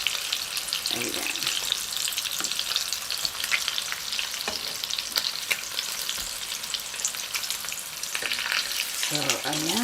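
Tofu and Spam fry in a pan with a loud, crackling, continuous sizzle, punctuated by a few stirring or flipping scrapes, close and steady, with a brief voice near the end.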